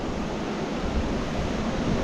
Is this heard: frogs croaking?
no